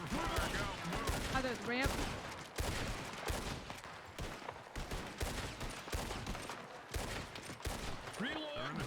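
Sustained video-game gunfire from a roleplay shootout, with dense bursts and single shots crackling throughout while several people talk over it.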